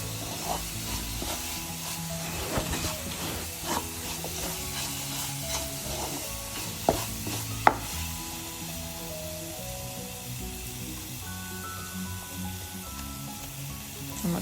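Coconut, nuts and jaggery being stirred in a hot pan for a sweet, with a steady soft sizzle and repeated scraping and clinking of the spoon against the pan, close up and with no voices.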